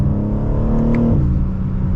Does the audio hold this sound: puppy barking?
no